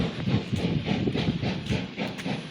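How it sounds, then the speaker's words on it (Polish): A steam locomotive pulls away from Poznań Dębiec station, a steady loud rumble and hiss with faint rhythmic rail clatter running throughout, no voices. "No i proszę, odjazd parowozu."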